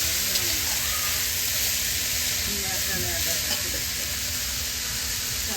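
Pitha frying in an oiled pan with the lid off, a steady close sizzle and hiss running throughout with faint scraping and stirring over it.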